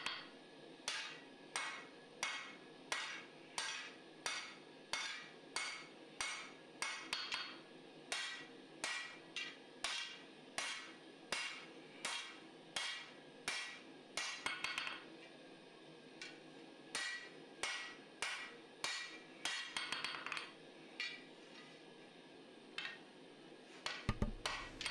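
Hammer blows forge the distal taper of a Musso Bowie blade, sharp metallic strikes in a steady rhythm with brief pauses between bursts, close and ringing with no talk.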